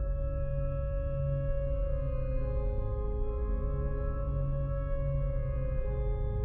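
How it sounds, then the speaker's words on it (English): A stock Serum synthesizer pad preset holds a steady, sustained chord for the whole span, warm and dense with a bass-heavy body and soft upper overtones, constant in loudness and heard alone without talking. "It's just a pad from the stock presets of Serum."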